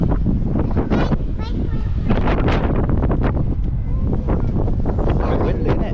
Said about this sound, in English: Quite windy, isn't it?